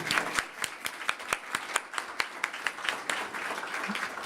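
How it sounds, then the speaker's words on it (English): Light, sparse clapping from a small group at an IPAC award ceremony, individual claps distinct and fairly regular, fading toward the end. "please join me in a big round of applause"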